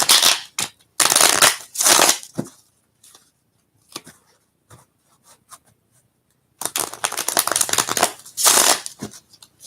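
Crystal Vision tarot cards are shuffled in crisp, riffling bursts, with a long run of brisk cardstock flutter, scattered light taps during a pause, then another flurry of shuffling, close and clear.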